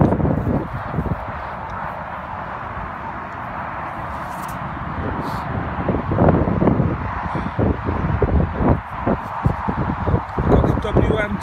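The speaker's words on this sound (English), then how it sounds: "Sorry, you can hear the wind." Wind buffets a microphone outdoors on farmland during metal detecting, a low, rough rumble that swells and gusts throughout, with a person talking over it.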